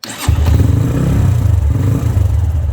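A motorcycle fitted with electric self-start fires up after a quick starter whir and settles into a loud, close, steady idle with a lumpy, thudding rhythm.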